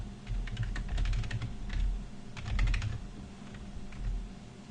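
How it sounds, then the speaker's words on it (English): Keys clatter on a computer keyboard in quick irregular bursts, close and moderately loud, with short pauses between runs of taps and no talking. "Now, just typing this in"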